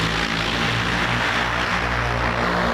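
An XPeng flying car prototype, shaped like a drone with no wheels, hovers and flies with a loud, constant rotor whir that holds steady throughout without voices.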